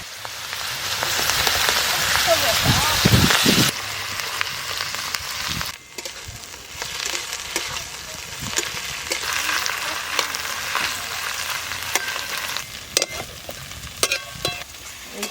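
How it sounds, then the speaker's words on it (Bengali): A rohu fish head fries with ground spice paste in oil, a loud, close, steady sizzle with a brief dip partway through and scattered stirring scrapes over the hiss. "পেঁয়াজ মুড়িটা মশলার সাথে ভালো করে ভেজে নিয়েছি"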